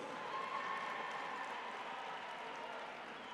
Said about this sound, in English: Can we give the Premier a round of applause